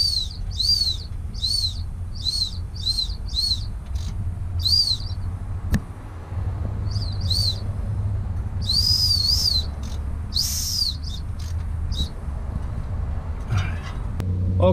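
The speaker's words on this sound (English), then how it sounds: "we can also hear this whistle that's already hooked up" A top dead center indicator whistle fitted to a Chevy 4.3L V6 engine gives a rhythmic series of short, high, wavering chirps as the engine is turned over by hand, pausing once and resuming, over a low mechanical rumble.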